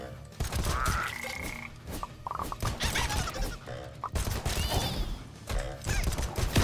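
Frog croaks in the AK-XOLOTL demo video game, a few short croaks among busy, dense game effects with thuds and impacts, fairly loud and continuous throughout.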